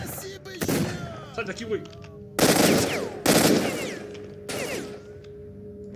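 Bursts of gunfire in the video game S.T.A.L.K.E.R. come in several loud volleys, some rapid and some single cracks, with someone shouting over the shooting.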